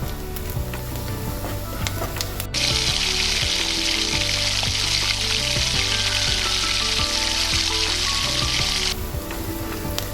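Ginger and garlic sauté in a clay pot for a tapioca masala, giving a loud, steady sizzle that swells sharply partway through and then eases back slightly, with no voices.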